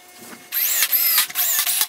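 A handheld drill drives pocket screws into a wooden divider for a cordless drill storage rack. It whirs in three close, loud bursts with short pauses between them, and no one speaks.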